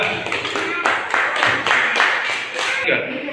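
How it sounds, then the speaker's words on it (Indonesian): A classroom group claps together in rhythmic, evenly spaced bursts for a few seconds, fairly close and loud, then stops. "Tepuk tangan untuk kelompok 2."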